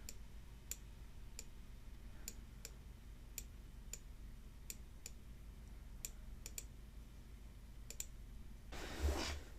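A computer keyboard typed on at a desk during a vinyl heat-transfer project, with faint, sparse, irregular key clicks over a low room hum and a short rustle near the end.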